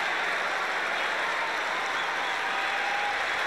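Stadium crowd at a US Open tennis match in 2003 breaks into sustained, dense applause and cheering from a large audience, steady and loud throughout without a break.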